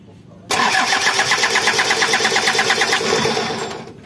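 A Daihatsu Taft F73 engine cranks loudly and rhythmically for about three seconds without catching, the starter churn slowing slightly before it stops.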